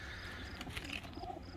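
Racing pigeons at a loft before a training flight give a few soft coos and faint chirps, quiet and somewhat distant against a low outdoor background, with no one speaking.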